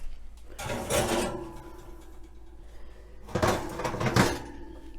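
A metal meatloaf pan clatters and scrapes against the rack as it slides back into a home kitchen oven, two separate bursts of clanking and rubbing with quiet gaps between, close by.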